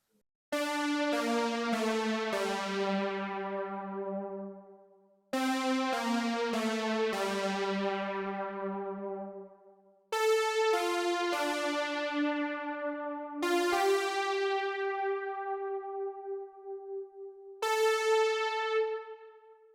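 Synth lead line from the Tau Uno LXV2 plugin in a modern G-funk beat: bright, harmonically rich notes in short repeating phrases, each decaying, played alone without voices.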